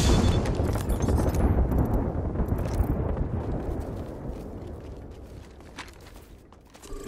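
Bangalore's artillery strike in Apex Legends, a rapid barrage of heavy explosions that starts loud and dense, then thins into scattered distant thuds and a fading rumble.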